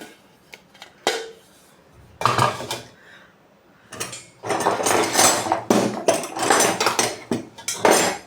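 Four secondhand brass ladles are picked up and handled, giving scattered metallic clinks followed by longer bursts of rattling, clattering metal, close by.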